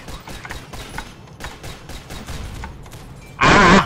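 A heavy mortar-type weapon fires in the robot shooter game Synthetik, a dense burst at the end after a stretch of rapid, clicky in-game gunfire and effects.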